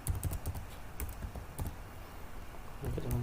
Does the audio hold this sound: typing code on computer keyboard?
yes